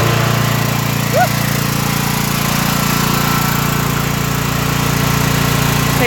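A cold engine at a winter yurt runs steadily after starting up, flooded with gas and belching black smoke, giving a loud, continuous droning hum with no pauses and no talking over it.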